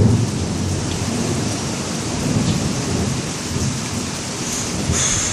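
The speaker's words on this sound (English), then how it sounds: "You can hear the thunder." Heavy rain pours steadily with a deep rumble of thunder rolling underneath, loud and continuous throughout.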